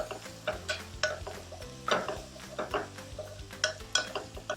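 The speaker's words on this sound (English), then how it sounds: "Give that another stir." A spoon stirs a tomato sauce with chopped Scotch bonnet peppers in a pot, making repeated clanks and scrapes against the metal over a low, steady sizzle.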